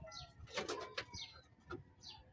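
A racing pigeon coos softly and close by in a few rolling, throaty calls with short gaps between them, heard alone against a quiet background.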